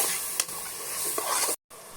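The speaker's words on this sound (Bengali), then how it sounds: "এই যে মশলা কষানো হয়ে গেল" Ground spice masala of turmeric, chili powder and chicken spice sizzles in hot oil in a pan, with a few stirring scrapes over a steady frying hiss, then a brief cut.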